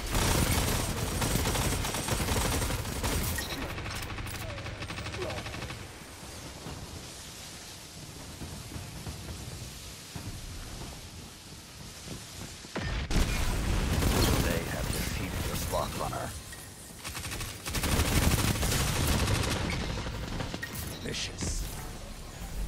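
Gunfire in Destiny 2 rattles in dense, noisy bursts, loud at the start and again in the second half, with a quieter stretch between and a game voice speaking over parts of it.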